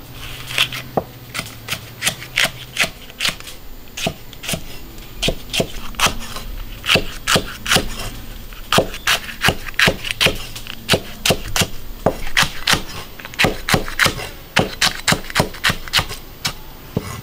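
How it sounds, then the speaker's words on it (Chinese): Fresh chili peppers being sliced into thin shreds with a knife on a board, a long run of quick sharp chops in uneven bursts, close and loud, without any voices. "把辣椒切丝"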